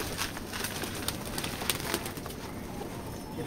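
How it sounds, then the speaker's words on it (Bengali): Pigeons coo and shuffle inside a loft where ten cocks and ten hens are kept, a steady mix of soft murmuring calls with occasional sharper sounds and wing movement, moderately close and continuous, with no talk. "দ্বিতীয় পর্বের কবুতরগুলা"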